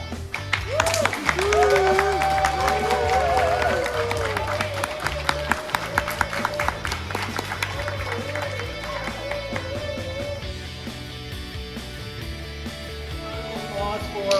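An audience claps at a Scout Arrow of Light ceremony, with applause building and fading amid crowd noise and a few voices.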